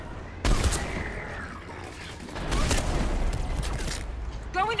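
Scattered bursts of combat gunfire in the sci-fi shooter video game Mass Effect, mixed with booms and mechanical noises, continue steadily under occasional voices.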